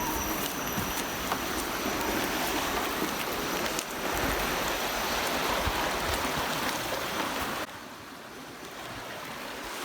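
Water flowing down the El Dorado Ditch, a steady, dense rushing wash heard close and loud for most of the time, dropping to a softer level near the end.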